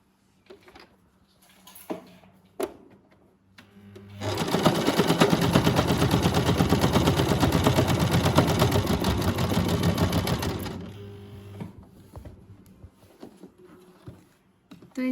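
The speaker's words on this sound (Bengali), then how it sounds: "তো এখন আমি সেলাই করতে চলে যাচ্ছি।" A Singer SM024 sewing machine stitches through denim jeans fabric in a single loud, close, continuous burst of fast mechanical rattling, with quieter handling clicks and taps before and after.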